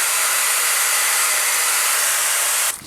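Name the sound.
hair dryer with diffuser drying curly hair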